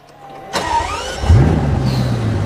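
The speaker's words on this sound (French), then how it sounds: "Le démarreur qui fait ce bruit si typique des Bugatti depuis l'époque des Veyron" A high whirring Bugatti starter motor spins up with a rising whine, then the engine fires and settles into a deep, steady idle nearby.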